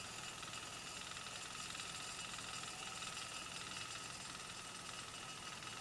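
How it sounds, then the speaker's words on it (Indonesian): Three diesel engines pumping water beside a lake at a toll road construction site run in a steady, faint mechanical hum and whine, unbroken and distant, with no talking. "Itu ada mesin diesel 3 ya, yang menyedot air nih."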